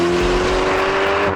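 A Ferrari Portofino engine revs loudly and close up, a steady high-pitched roar that holds for a moment.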